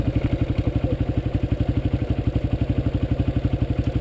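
A dirt bike engine runs close by with a loud, steady, even thump-thump, a rough idle that stays level with no pauses and no one talking over it.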